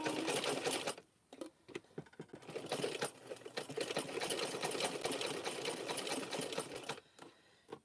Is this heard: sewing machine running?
yes